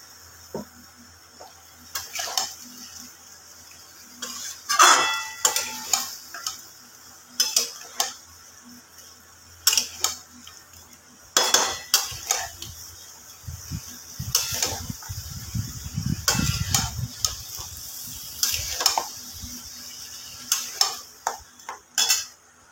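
Mutton kosha is stirred and fried in a pan, with a spoon scraping and clinking against the metal again and again at an irregular pace, over a soft sizzle that swells into a louder crackling fry in the middle.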